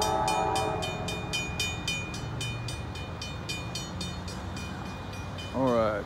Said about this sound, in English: Finally got a train.